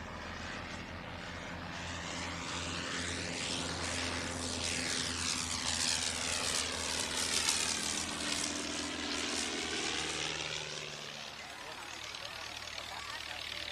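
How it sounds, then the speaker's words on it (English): Vintage Avro 504K biplane, an original World War I training aircraft of the Shuttleworth Collection, flying past at an airshow: a steady rotary engine drone with propeller buzz that swells as it nears and fades away, under crowd background. "famous Shuttleworth aircraft is this original Avro 504K, primarily used as a training aircraft in World War I and between the wars"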